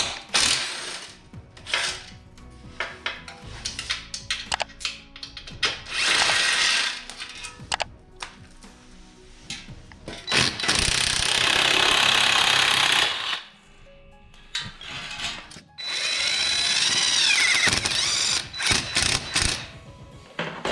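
Power tool working bolts loose on a Yamaha Tenere 700 motorcycle while crash guards are fitted, loud rattling ratchet bursts of several seconds each, close up, with clanks of metal parts between them.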